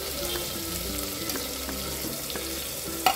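Green chilies frying in oil in a pan, a steady close sizzle with faint stirring clinks and a sharp scrape at the very end.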